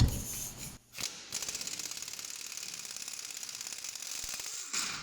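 A socket ratchet spins out the last bolt on a wheel knuckle during a wheel bearing replacement, giving a long run of rapid, even clicks after a couple of brief knocks, close and fairly quiet.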